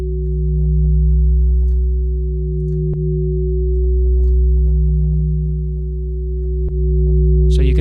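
A warm synthesized chord sub bass pulses steadily under soft sustained chords, with faint percussive clicks and ticks scattered across the loud, continuous mix.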